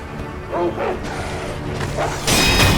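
A dog barks in the video game Sekiro: Shadows Die Twice, giving a couple of sharp yips among thuds and swooshes, followed by a loud crashing burst of combat noise.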